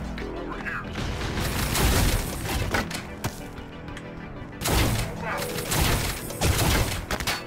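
Gunfire in the video game Ion Fury at a shooting range, with repeated loud bursts of shots and booms in clusters that stop and start, some sharp pops standing out, and a voice talking in between.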